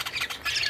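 Parakeets squawk in quick, harsh bursts, several close, bright calls crowding together over a short moment with no talking.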